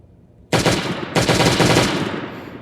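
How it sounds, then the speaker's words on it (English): Pistol firing at boxes in a video game, two loud rapid bursts of gunfire close up, each a dense crackle of shots, with no talk. "you should be able to shoot it with the pistol"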